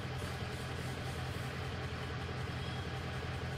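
A 6.0 diesel truck engine, misfiring on cylinder one, idles steadily with a low, even rumble, fairly faint and continuous, with no other sounds.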